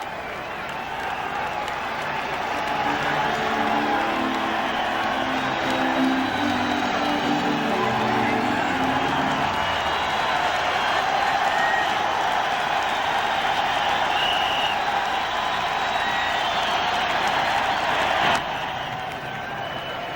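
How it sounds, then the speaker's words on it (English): A stadium crowd of White Sox fans cheers steadily through a tense late-inning moment at the 1993 ALCS Game 6 between Toronto and Chicago. The roar is dense, loud and sustained for about eighteen seconds and then drops off abruptly. "The cheering you heard, White Sox fans."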